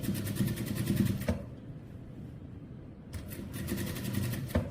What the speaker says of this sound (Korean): 이렇게 얇게 해서 끝까지 한 바퀴 스티치 다 쳐주세요